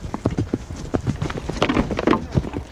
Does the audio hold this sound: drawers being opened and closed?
no